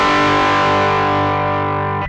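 An electric guitar played through a Mosky Classic AC-30 style amp pedal sounds one loud, distorted sustained chord that rings steadily and then cuts off abruptly after about two seconds.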